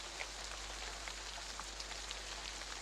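Steady rain falls on a surface, a dense even patter with scattered louder drops, moderately close, no voices.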